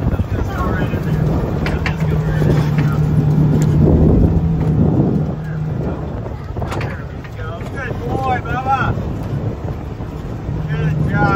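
An ATV engine drones steadily and loudly up close, its pitch shifting as it drives, with wind buffeting the microphone and people talking over it.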